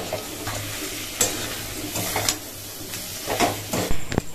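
Fried potatoes sizzle in a spice masala for a potato and fish roe curry as a spoon stirs them in the pan, with repeated scraping strokes over a continuous close frying hiss.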